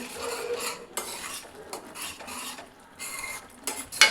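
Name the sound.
masala frying and being stirred in a pan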